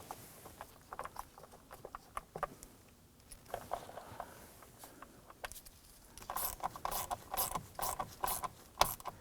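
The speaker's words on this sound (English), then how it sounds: "Then we'll come on back and use our ratchet to snug them down." A hand ratchet snugs down bolts while an ignition switch is installed on a 2015-2020 Ford F-150, giving quiet, close clicking bursts that come in short runs and grow denser and sharper toward the end.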